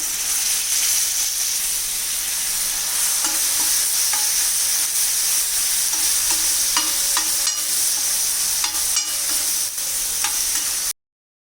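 Sizzling masala on a tawa for mutton liver hisses loudly as yogurt goes in and gets stirred, a continuous close frying crackle with repeated scraping clicks of the spoon, alone without speech, ending abruptly.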